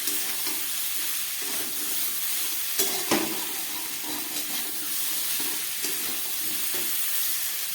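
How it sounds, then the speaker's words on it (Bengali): Rice and vegetables sautéing with a splash of water in a pan, a steady broad sizzle and hiss running throughout, close and fairly loud, with a few brief scrapes and clinks of stirring near the middle. "সামান্য একটু জল দিয়ে দিলাম। ভালো করে আমি কষিয়ে নিচ্ছি।"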